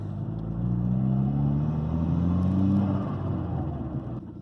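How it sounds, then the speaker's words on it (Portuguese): A Ford Ka fitted with new EcoSport front brakes drives along with a steady, low engine rumble heard from inside. The pitch slowly rises and then eases off, with no one talking. "É muito bom dirigir o carro assim."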